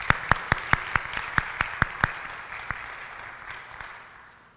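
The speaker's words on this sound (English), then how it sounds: "we just want to give them a round of applause for making this possible" At a church ladies' day gathering in a fellowship hall, a few sharp, evenly spaced claps ring out at first, then thin into faint, fading clapping as the applause dies away.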